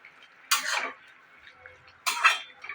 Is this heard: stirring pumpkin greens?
yes